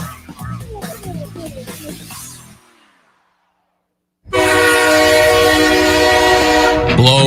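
A train's horn sounds as one loud, steady, sustained blast close by, after a fainter stretch of mixed voices and a brief silence.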